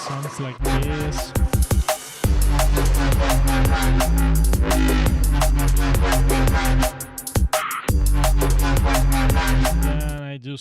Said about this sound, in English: Do some kind of drum and bass too.